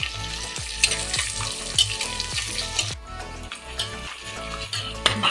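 Onions sautéing in a pan for a quail gravy give a steady, close sizzle and crackle. Rhythmic background music plays over it the whole time.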